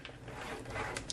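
Paper being scored on a scoring board while making a self-closing box, a short close scraping and creasing sound with light clicks at the end, fairly faint and alone.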